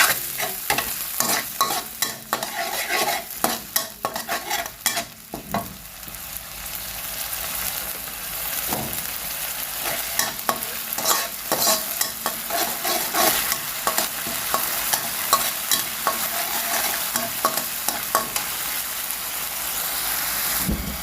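Thai red curry paste for jungle curry with small fish is stir-fried in a pan with a splash of water, a dense crackling sizzle with repeated scraping stirs throughout, close and fairly loud.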